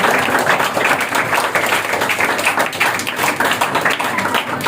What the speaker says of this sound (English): Clap for giving the precious time.